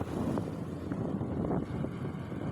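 A tractor hauling a heavy load of harvested rice paddy rumbles past with a low, steady engine drone, mixed with wind noise and no talking.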